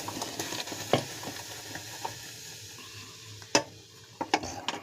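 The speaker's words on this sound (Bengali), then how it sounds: "কন্টিনিউ এটাকে নাড়তে থাকবো।" Mango pudding mixture being stirred in a hot pan makes a low, steady sizzle broken by scattered sharp clicks of the spoon against the pan, heard up close with no talking.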